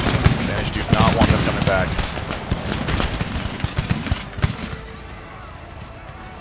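Musket volley fire rattles through a battle in Empire Total War, with dense crackling shots and scattered reports fading toward the end while someone narrates over them.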